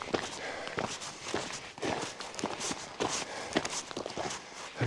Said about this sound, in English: I thought I heard a second set of footsteps.